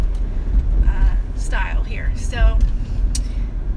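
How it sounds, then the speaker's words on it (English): A car interior while driving, with a steady low road and engine rumble throughout and a person talking over it. "driving in the car"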